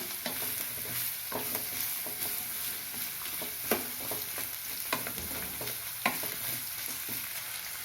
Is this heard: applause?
no